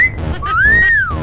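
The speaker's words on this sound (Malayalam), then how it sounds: "വിസിൽ വിഴുങ്ങിയ" In a Malayalam comedy film scene, a person who has swallowed a whistle gives off a shrill whistling tone that sustains, then swoops upward and falls away, loud against a low background rumble.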